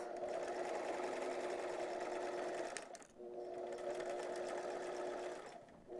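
Sewing machine stitching a zipper case: a fast, even mechanical chatter running close and steady, with a brief pause midway before stitching resumes, then stopping at the end.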